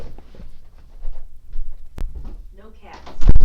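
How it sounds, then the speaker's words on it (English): A door closing: a sharp thump near the two-second mark, then a louder knock and rattle at the end, over steady low rumble and bits of talk. "Just close the door."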